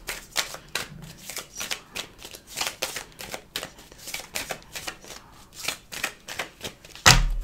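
Tarot cards are shuffled up close in a steady run of quick riffling flicks, ending with a louder tap as the deck settles.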